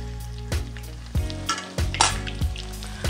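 Corn fritters fry in hot oil with a steady, close crackling sizzle, broken by a few louder pops and bursts of spattering as pieces shift in the pan.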